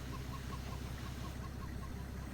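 Chickens cluck in a farming video game homestead, a steady run of soft repeated clucks over a constant low engine-like hum, with no talk.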